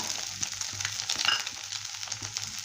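Chopped onion, carrot, capsicum and green chilli fry with scrambled egg in a pan for fried rice made from leftover rice, giving a steady close sizzle with light scraping from stirring.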